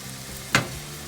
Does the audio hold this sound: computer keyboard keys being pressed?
no